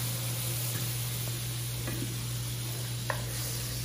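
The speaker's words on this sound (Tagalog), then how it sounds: "Ilalagay ko na po ang ating butter" Butter melting in a pan at the start of cooking crab in a creamy white sauce gives a steady, even sizzle and hiss close to the microphone, with faint occasional clicks and no talking.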